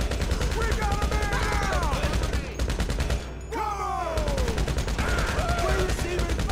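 Dense, continuous rapid gunfire during a GTA Online mercenaries mission, rattling almost without pause at close range, with a brief dip midway and voices shouting over the shooting.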